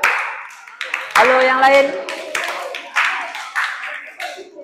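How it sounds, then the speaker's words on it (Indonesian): Middle school students clap for a classmates' group in a classroom, a loose patter of hand claps mixed with a teacher's voice speaking over and between them. "boleh tepuk tangan untuk kelompok 2"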